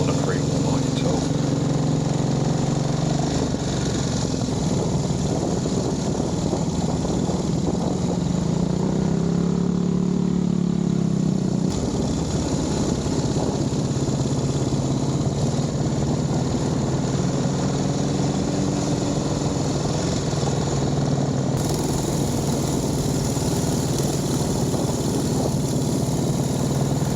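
A 1927 Rex Acme pre-war motorcycle engine runs with a steady, chugging idle-like drone at moderate distance, continuous throughout while people talk over it.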